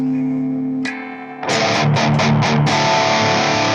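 An electric guitar plays through a moderately overdriven medium-gain amp setting with sag off: a sustained crunchy chord, a pause, then a series of rhythmic strummed chords.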